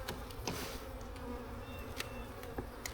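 Purebred Russian honey bees buzz loudly and continuously as a honey super is inspected, a dense close-up hum with individual bees zipping past the microphone now and then.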